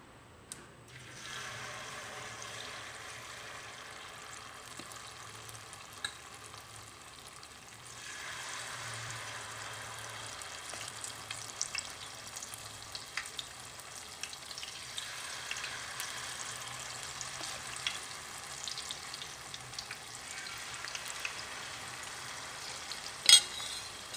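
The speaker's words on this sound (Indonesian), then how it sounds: "dan sekarang kita mulai goreng." Corn fritters fry in hot oil, a steady soft sizzle and crackle that grows a little louder partway through and continues alone without talk.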